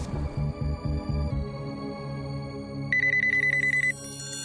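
An office landline rings through the earpiece on an outgoing call, with repeated electronic ring pulses in a steady rhythm followed by a higher trilling burst. It is clear and close, with no talking.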